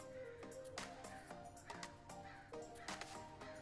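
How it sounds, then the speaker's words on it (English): Crows caw in rural West Marin, a quick series of harsh, rhythmic calls from several birds, fairly distant and moderately loud outdoors with no speech. "Can you hear the crows?"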